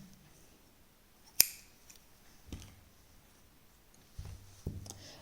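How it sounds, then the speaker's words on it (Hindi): Scissors snip crochet thread with one sharp, close click, then a few faint handling ticks follow in a quiet room, with no talk. "यहाँ पर धागा काट देंगे"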